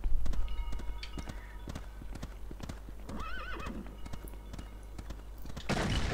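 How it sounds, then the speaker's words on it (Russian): A horse ridden in LEGO Indiana Jones, hooves clip-clopping in a quick, even rhythm with a clear whinny partway through, moderately close over a low game backdrop. "я буду на лошадке кататься"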